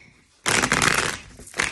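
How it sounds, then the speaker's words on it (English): A deck of tarot cards is shuffled in a close, crisp riffling burst of about a second, followed by a brief second flick. "I'm going to shuffle one more time"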